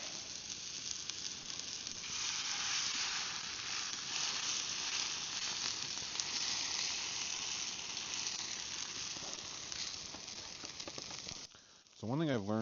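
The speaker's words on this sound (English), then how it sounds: "So we're gonna pour scrambled eggs in there." Scrambled eggs poured into a pan over a campfire pit sizzle in a steady, dense hiss for about eleven seconds, close and continuous, before a brief clatter near the end.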